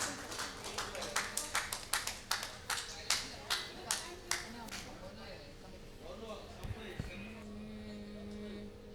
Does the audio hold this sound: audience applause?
yes